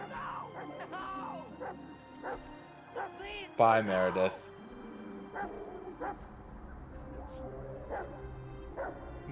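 A dog in Marvel's Guardians of the Galaxy video game barks and whimpers briefly in the middle of the scene, under game music and ongoing speech from characters and a player.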